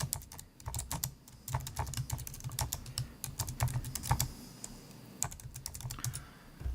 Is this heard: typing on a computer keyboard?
yes